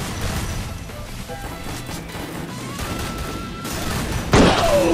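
A grenade explosion and gunfire in a shooter video game: a steady crackle of distant shots and game noise, then a sharp, louder blast near the end.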